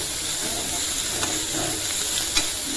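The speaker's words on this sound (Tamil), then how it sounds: "இஞ்சி பூண்டு லைட்டா வதக்கிட்டு" Ginger and garlic sauté in a pan at home, a soft continuous hiss and sizzle with a couple of faint clicks of stirring, no voices over it.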